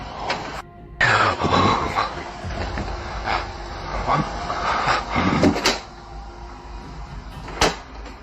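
A door slams shut indoors with a sharp, loud bang, followed by several more knocks and thuds scattered over a few seconds amid a noisy, rumbling background.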